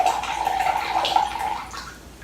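Coolant pours out of a failed Enermax Liqtech AIO cooler into a jug in a steady close trickle that gradually thins and fades toward the end.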